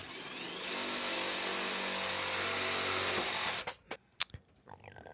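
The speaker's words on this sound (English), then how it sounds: "I like to throw in 4 screws on each piece of sheet metal that I'm joining together" A power tool drives screws into sheet metal duct during a whole-house humidifier install. There is a loud, close, sustained motor whir, then short bursts and clacks as it stops.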